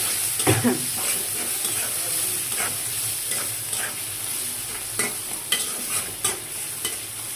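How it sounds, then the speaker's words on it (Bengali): Dried loitta shutki fish frying in a hot pan, sizzling steadily up close while a spatula stirs and scrapes it in repeated strokes. "এই যে এখন আমি শুটকিটা এটার সাথে দিয়ে দিলাম। এটা এখন ভালো করে ভাজতে হবে।"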